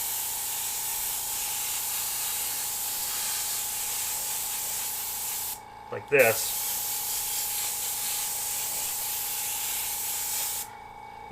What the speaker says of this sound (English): I'm just going to spray